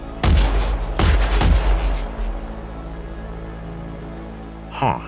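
Spaceship weapons firing torpedoes in a sci-fi audiobook battle, several heavy booming blasts in quick succession followed by a rumbling decay and a final whooshing burst, loud and close.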